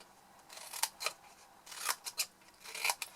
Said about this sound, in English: just cut the wedges out of the corner squares to create our tabs